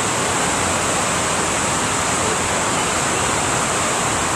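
A steady, roaring rush of falling water from a waterfall near Highlands, North Carolina fills the space, constant and loud with no breaks.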